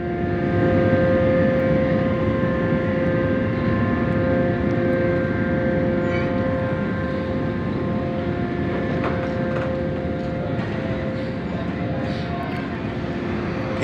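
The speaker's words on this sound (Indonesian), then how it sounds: "Kita naik kapal Naomi di Jakarta." Aboard a ship at Merak port, Banten, a steady, loud mechanical drone with a constant engine hum continues without a break.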